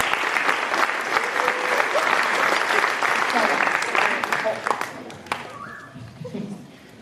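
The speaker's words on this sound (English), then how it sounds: "go ahead and give him and the men a round of applause" An audience at a university athletic awards ceremony applauds the men's bowling team, with loud sustained clapping that fades toward the end as a voice begins speaking.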